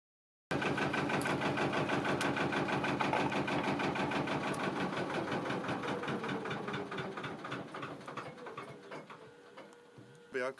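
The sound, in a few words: narrowboat engine idling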